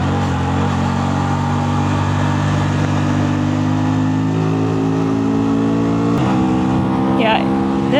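A cruiser motorcycle engine drones steadily while riding, close and loud, with a rumbling tone that shifts as it accelerates near the end.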